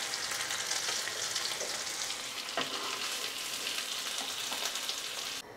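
Paneer cubes and capsicum frying in oil in a pan, a steady close hiss of sizzling with faint stirring scrapes, continuous and even until it briefly quiets at the very end, no talk.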